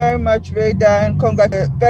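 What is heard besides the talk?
None of the usual background noises is heard.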